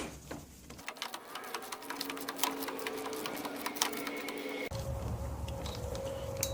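A big ratchet works on the power tilt trim cylinder of a Johnson/Evinrude outboard, giving steady rapid clicking, loud and close, with a shift in pitch partway through.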